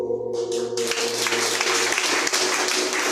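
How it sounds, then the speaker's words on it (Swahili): A church congregation breaks into applause, dense clapping swelling in after a moment and carrying on steadily with a sustained tone underneath. "Na sisi tunafaa tupigie Mungu makofi mazuri."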